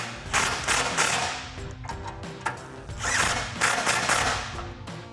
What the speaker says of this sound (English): And then I'll take a 16 millimeter socket to tighten these down